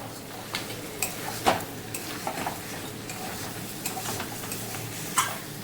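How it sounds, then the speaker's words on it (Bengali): Chicken curry meat being stirred in a pot with the lid off, giving a low steady sizzle broken by several sharp clinks and scrapes of a spoon against the metal pot, quiet and close. "ঢাকনাটা খুলে আমি মাংসটা একটু নেড়ে নেব"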